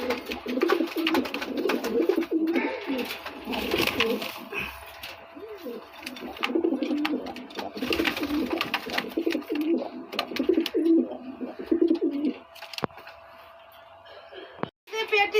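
Native domestic pigeons coo repeatedly in low, throaty bursts close by, a male sitting in a clay nesting pot, over a busy background with other faint noises.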